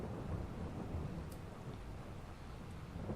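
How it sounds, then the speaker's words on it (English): Rain and thunder in the video game Farming Simulator 22: a steady low rumbling wash of rainfall and distant thunder, fairly quiet and continuous with no voices. "Yep, so much for it to stop raining anytime soon."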